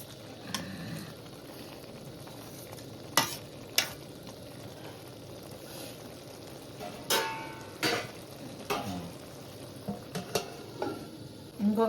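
Ridge gourd and tomato curry with onion simmers and sizzles softly in a pan, with occasional sharp stirring clinks and scrapes of a utensil over the steady low cooking noise.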